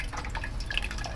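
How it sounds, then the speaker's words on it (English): Tap water rinsing an anthurium plant, splashing and dripping in quick irregular droplets over a low running-water hiss, close and moderately loud, with no voices. "Okay, should rinse this off with tap water."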